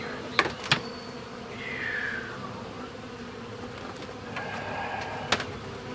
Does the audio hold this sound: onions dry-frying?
no